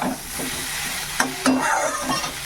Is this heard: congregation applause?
no